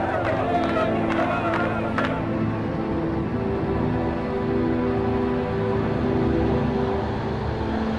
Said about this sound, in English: A tumultuous crowd gathers at Lod Airport to welcome home the returning heroes.